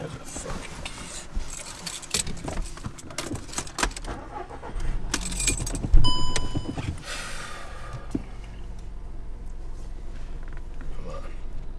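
Keys jangling inside a car while a GPS multimedia unit is being fitted: scattered metallic clinks and rattles with a louder burst midway, over a low background rumble and occasional handling noise.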